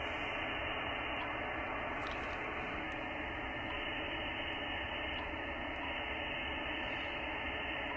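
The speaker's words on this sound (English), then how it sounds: "Now listen to the hiss." Steady broadband hiss from a Yaesu FTdx10 or Icom IC-7300 radio receiver on sideband with a 2400 Hz low-pass filter, constant and even throughout with no voices.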